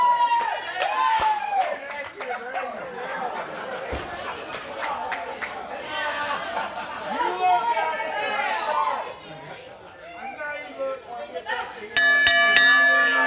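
A ring-side bell clangs in a rapid burst of strikes near the end of an indoor professional wrestling show, cutting through steady crowd chatter and murmuring from the audience.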